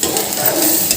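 Dry Maggi noodles roasting in a hot pan, a steady close sizzle with faint stirring scrapes and no talk.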